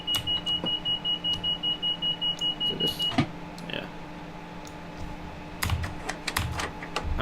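Rapid, evenly spaced key taps on a computer keyboard run for about three seconds alongside a steady high beep, then stop, leaving a quiet train-simulator cab hum with occasional clicks.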